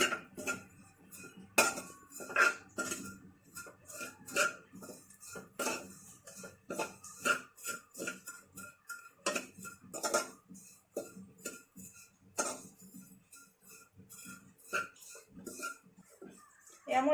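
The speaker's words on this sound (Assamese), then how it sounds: "ঘিউখিনি গলি যোৱালৈকে মই অলপমান ভাজিম।" A spoon stirs in a pan while ghee melts and something fries for a vermicelli dish. Close, irregular metallic clinks and scrapes come in quick bursts against a quiet background with no steady sizzle.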